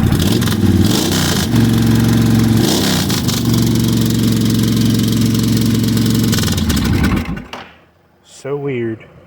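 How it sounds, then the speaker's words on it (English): Engine idling loudly up close and revving in steady pulses, then cutting off near the end, followed by a brief mechanical whine; starter solenoid fault suspected. "give you guys a rev"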